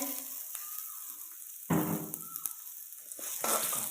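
Chopped onions fry in a pan with a soft sizzle that swells in bursts, broken by quieter gaps and a few scrapes and knocks. The sound is fairly close but low in level, with no speech.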